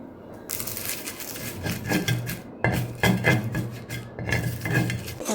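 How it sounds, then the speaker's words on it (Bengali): Fried chilies being ground for bhorta on a traditional grinding stone: repeated close, rough rasping and rubbing strokes in an uneven rhythm, with brief pauses between bursts of scraping. "আজকে ভর্তাটা বেটে নিব বাটনা দিয়ে"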